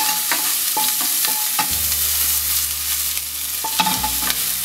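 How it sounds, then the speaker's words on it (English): Ginger and garlic stir-fry in a pan for restaurant-style chilli chicken, with a loud, close, steady sizzle and rhythmic spatula scrapes and clanks against the metal. A low burner hum runs underneath. "we usually fry it little bit so that garlic taste is little reduced"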